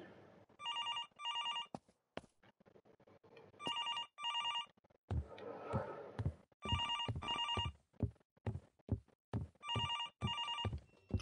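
Old-style telephone bell ringing from downstairs in the horror game Infliction, coming in repeated double bursts across the clip, fairly loud, broken up by thuds and footstep-like knocks between the rings.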